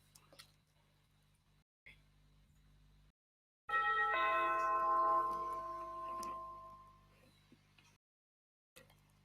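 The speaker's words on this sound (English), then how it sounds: "you can hear doorbell is actually playing." A doorbell chime on a Grandstream GDS3705 IP audio door system rings out clearly for a few seconds over a quiet background hum, its tones decaying slowly before fading away.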